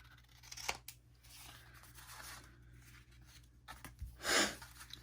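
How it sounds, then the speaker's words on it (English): Scissors trim the corners of cardstock for handmade vintage pocket tags, a few quiet, close snips and crisp cuts spaced apart over a soft background, the last cut longer and louder, with no one talking. "So I'm just going to trim those corners really quick on just the cardstock."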